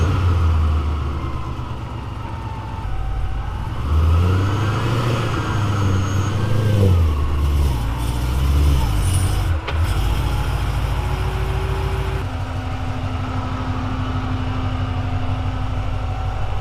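A 2017 Chevrolet Camaro SS engine rumbles close by as the car creeps up onto race ramps, low revs rising and falling before settling into a steady idle hum.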